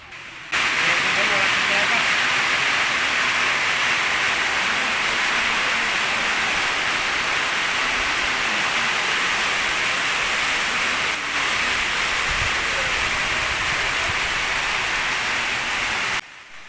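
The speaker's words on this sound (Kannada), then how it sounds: "ಮಳೆ ಸೌಂಡ್ಗೆ ನಾವೇನು ಮಾತಾಡ್ತಿದ್ದೀವಿ ಅಂತಲೇ ಕೇಳಿಸ್ತಾ ಇರಲಿಲ್ಲ" Steady, dense hiss of heavy rain pours without pause for the whole stretch, loud and even, with no voices standing out.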